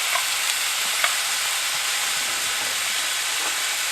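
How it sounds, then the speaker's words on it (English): Minced garlic sizzles steadily in a hot frying pan, a constant bright hiss with a few faint pops and light stirring ticks, close and even throughout. "Add our minced garlic in."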